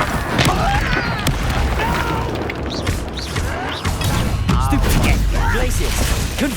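Confringo fire spells exploding during combat in Hogwarts Legacy, with loud booms and crashes thrown into a constant wash of battle noise and character voices.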